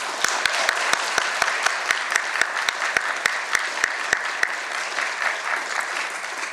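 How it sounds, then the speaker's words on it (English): Sustained audience applause for award winners at the Te Whatu Kairangi 2025 awards ceremony, a dense, even wash of clapping with sharp, regular close-by claps punctuating it before easing slightly toward the end. "let's give all the award winners a rousing round of applause and congratulations and recognition of the work that they have done to come here today"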